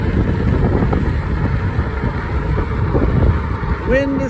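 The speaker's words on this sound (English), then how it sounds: "Boy, that wind is strong." Strong outdoor wind buffets the microphone during a fat tire e-bike ride, a steady loud rushing roar throughout with brief tonal squeaks near the end.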